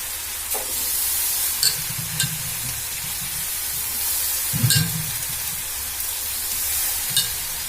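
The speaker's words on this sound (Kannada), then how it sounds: "ಬೀನ್ಸ್ ಹಾಕ್ತೇನೆ ರೀ" Beans and potatoes stirred in a frying pan, a steady hiss of sizzling with two bursts of rustling, scraping stirs and a few spoon clicks, close by.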